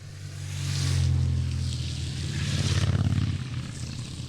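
Motorcycles pass on a road in the French Alps near Chamonix, a loud engine drone swelling near then holding steady with a rapid throbbing pulse before easing off.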